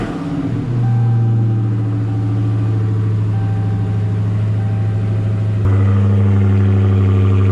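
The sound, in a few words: Dodge Hellcat Widebody Daytona car engine starting and revving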